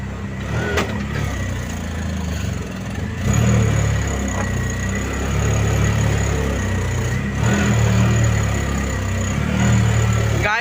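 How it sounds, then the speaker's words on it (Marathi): An auto-rickshaw stuck off-road, its engine droning and revving in uneven surges, loud and close, with people shouting nearby. "गाईज रिक्षा अटकले आता."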